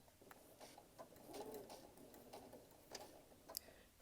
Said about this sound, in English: Stitch backward and then stitch forward the entire length of this fabric strip